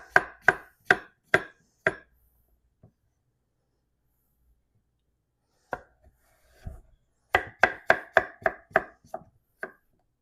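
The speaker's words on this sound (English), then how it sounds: "I'm wanting to cube these." A knife cubes cucumber on a cutting board in sharp, crisp chops, first a quick run of five, then a pause, then a faster burst of about eight close, clean strikes.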